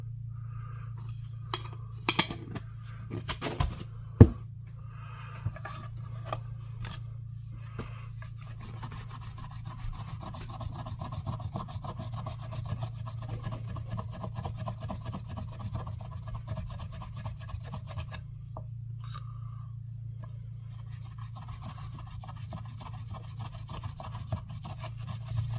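A rusty knife blade is rubbed with Never-Dull wadding in a steady, faint back-and-forth scrubbing over a low hum, with a few sharp knocks near the start.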